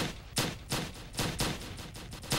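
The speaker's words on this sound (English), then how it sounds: "I'm shooting at you." Gunfire in the Roblox game Redwood Prison: a string of sharp, evenly spaced shots, about seven bursts in quick rhythm, fairly quiet and with no talk over them.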